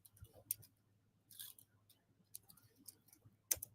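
A computer keyboard gives a few faint, scattered clicks and taps in a quiet room, irregular and sparse over a low steady hum.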